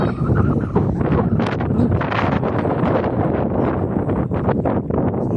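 Strong wind on a farm buffeting the microphone in a continuous roaring rush, loud and close throughout.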